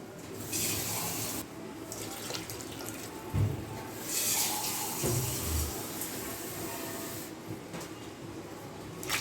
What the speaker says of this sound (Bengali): তাই আমি এতে আবার 1 লিটার মতো জল দিয়ে দেবো